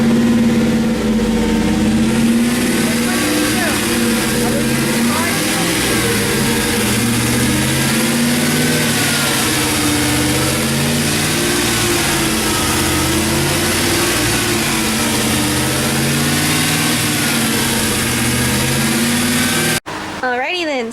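A Chevy LS V8 is held at a steady 2000-2500 RPM for camshaft break-in after lifter and cam replacement, a loud, continuous drone with a constant pitch that cuts off abruptly near the end.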